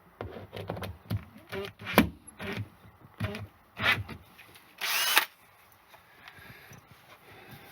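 A power drill whirs in several short bursts, driving screws into vent ducting in a vocal booth, with brief pauses between, close by, followed by a longer high whine.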